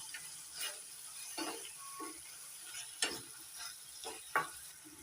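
Tomato halves and green chillies frying in a pan for a chutney and being stirred, with a soft steady sizzle and several sharp spatula scrapes and taps against the pan.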